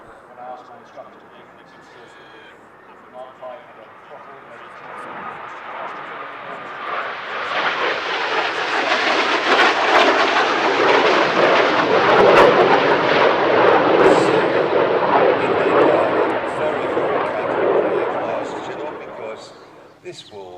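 Aircraft making a final pass at the Midlands Air Festival airshow, its engine roar swelling from a distance to a loud, broad rumble around mid-clip before easing off, with a commentator talking over it.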